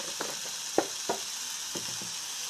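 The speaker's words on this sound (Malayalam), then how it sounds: "പക്ഷെ സവാള നന്നായിട്ട് ഒന്ന് വഴറ്റി വരണം" Onions sautéing in a pan give a steady, faint sizzle, broken by a few soft stirring scrapes and clinks, with no one talking.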